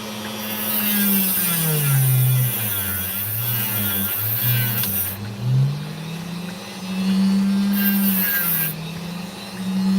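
A power tool trims an opal with a steady buzzing whine that rises and falls in pitch as the stone is pressed and eased off. The sound is loud and continuous, with no talking.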